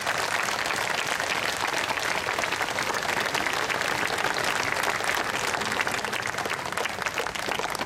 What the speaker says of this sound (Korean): 여러분, 따뜻하고 뜨거운 박수로 그 걸음을 함께해 주십시오.